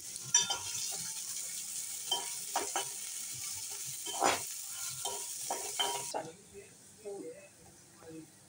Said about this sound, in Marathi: कांदा एक बारीक कापून घेतला आहे, तो लालसर होऊ देऊया